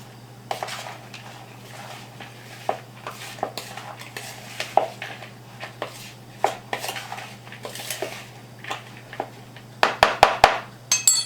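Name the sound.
stirring flour and spices into quiche filling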